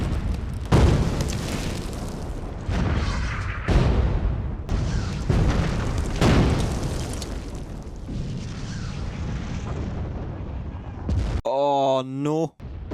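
Artillery barrage in a Band of Brothers war episode: repeated heavy booming explosions with rumbling aftermath, some close and loud, interspersed with shouting voices, followed by a short tonal passage near the end.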